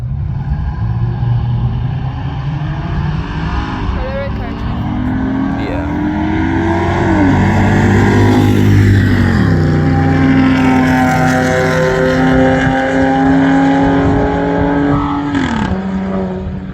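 A 2013 Dodge Challenger V6 makes a full-throttle drag racing pass. The engine drones loudly throughout and climbs steadily through the gears, with clear upshifts around the middle and near the end. A faint voice may sit under the engine noise.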